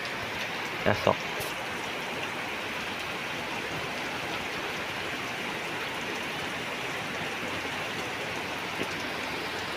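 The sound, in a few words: rain falling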